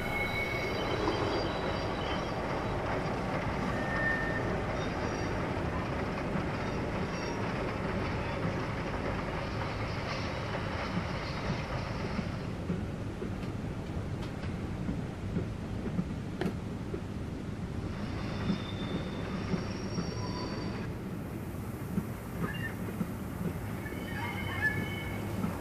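A Heljan Class 45 model diesel locomotive runs on a model railway layout by a dairy siding, giving a steady motor drone and rail rumble with a couple of horn-like tones over about twenty-five seconds.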